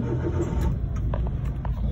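A 2012–2016 model used car for sale in Lahore, engine just started and idling steadily, a low continuous rumble running close and even throughout with no talking.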